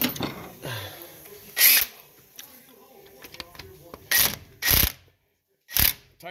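A ratchet clicks in several short bursts while the hub bearing bolts are tightened on a 2004 Dodge Ram 1500 4x4 Hemi, with a mechanic talking in between the close, crisp clicks.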